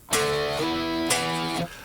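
Two distorted electric guitar power chords from a main riff, each struck with a downstroke and sliding up to a new pitch, ringing out loud and sustained before stopping.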